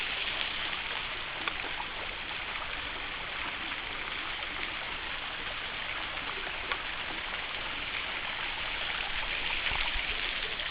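Water from a waterfall pours through a worn hole in slate-like rock, giving a steady, dense hiss like heavy rain that runs unbroken throughout, with no voices.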